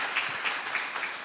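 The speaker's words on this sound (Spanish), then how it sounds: "Y un fuerte aplauso para toda nuestra comunidad" A congregation at a Mass for San Isidro Labrador in Areguá claps in a brief, steady rhythm of soft, evenly spaced beats, fairly faint and a little distant.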